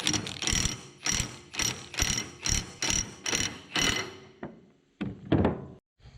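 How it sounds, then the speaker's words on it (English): A 2-inch socket wrench ratchets loudly and up close on a Hitachi EX-30 excavator hydraulic cylinder, giving about seven steady bursts of rapid clicking, followed by a couple of metallic clunks. "it takes a 2-inch socket. Use this and hopefully I can get it off here"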